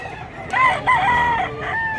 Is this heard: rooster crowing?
yes